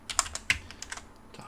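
Keys tapped on a computer keyboard while entering AutoCAD commands, a quick uneven run of about ten light clicks with one heavier keystroke near the middle, close and fairly quiet, with no voice.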